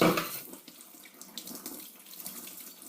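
Tap water runs steadily into a kitchen sink while dishes are washed, a continuous splashing hiss with small clatters, close and alone without talk.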